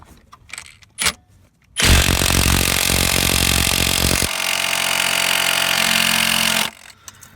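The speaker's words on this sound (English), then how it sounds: "Not a problem for the mid torque. So let's try this smaller Honda crank bolt." A Milwaukee mid torque impact wrench working on a Honda crank bolt, a loud rapid hammering burst that shifts pitch partway through and stops after about five seconds, preceded by a couple of short clicks and clanks.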